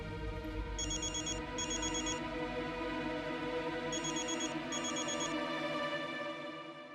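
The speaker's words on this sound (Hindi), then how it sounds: "वीरेन जी, मानवी का फोन।" A phone rings in two pairs of electronic trills, faint over a steady low background hum, with a pause between the pairs.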